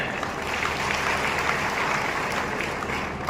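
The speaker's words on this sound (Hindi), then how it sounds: "जोरदार तालियों से इनका स्वागत भी करें" Crowd applause at a Hisar Lok Sabha election rally in the Uchana grain market, Jind: a dense, steady roar of many hands clapping at once, continuous and fairly loud throughout.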